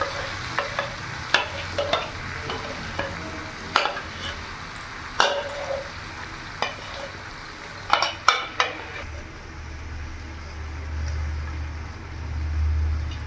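Spinach paste is stirred into fried spices in an oily pan, with steady sizzling under repeated scraping spoon strokes against the metal, close by, and the sizzle settles into a lower simmer toward the end.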